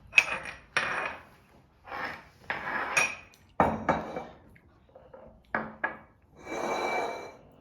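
Egg yolks and caster sugar are mixed in a bowl for lemon curd, heard as a series of clinks, taps and scrapes of a utensil against the bowl in irregular bursts, close by.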